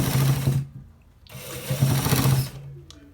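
A sewing machine stitches a designer shirt with buttons, running in two steady whirring bursts separated by a short pause, close and loud.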